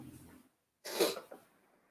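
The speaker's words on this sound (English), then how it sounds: "sneeze." A single sharp sneeze bursts out on its own, loud and close, after a brief murmur of breath and a moment of silence, trailing off into a softer exhale.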